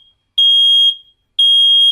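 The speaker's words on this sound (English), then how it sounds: "we're going to simulate a test of this smoke alarm right now." Smoke alarm sounding its test signal, loud piercing high beeps in the temporal 3 pattern, two long tones separated by a short gap, alone with no talk.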